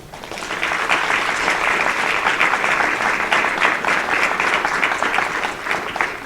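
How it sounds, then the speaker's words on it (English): A large audience at a fall 2021 induction and send-off ceremony breaks into sustained applause, a dense, even wash of clapping that swells in and holds steady for several seconds. "You got a huge round of applause."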